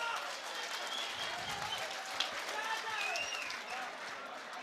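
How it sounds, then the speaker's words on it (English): Applause from an audience after a boxing match at a boxing and fitness academy event, steady clapping and some crowd noise with a few faint whistles, heard at moderate distance throughout. "A round of applause, ladies and gentlemen,"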